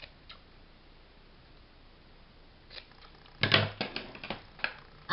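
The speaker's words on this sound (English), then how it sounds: "And I'll trim this one down a bit." Scissors trimming a paper envelope, a quiet lull followed by a cluster of close, crisp snips and rustles of the paper.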